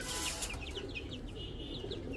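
Egyptian Fayoumi chickens, eighteen hens and two roosters about two months old, clucking and peeping in a farmyard, a steady chorus of short calls over a noisy background, with no talking.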